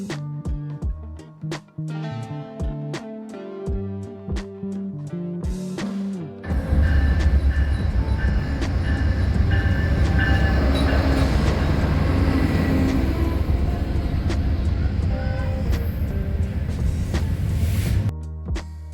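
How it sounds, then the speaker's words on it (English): A VIA Rail passenger train rumbles steadily on the rails between Belleville and Toronto with a low, heavy roar and rhythmic clacks, after some music at the start. "We're taking the Via train, Belleville to Toronto."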